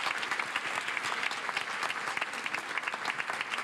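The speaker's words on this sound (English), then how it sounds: "Clap for your parents." Audience applause for parents at a school honors night, a sustained, dense round of clapping from a sizable crowd at steady loudness, with no speech over it.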